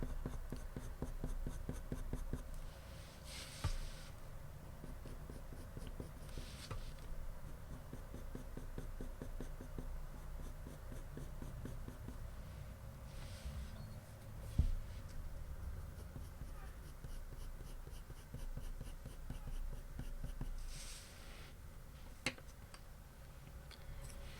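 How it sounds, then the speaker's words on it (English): Coloured pencil held on its side shades a drawing on paper in a steady, soft scratching with short rhythmic strokes. The sound is close but faint and carries on for over twenty seconds, with occasional light taps. "just using the pencil on its side, getting a really lovely light yellow covering"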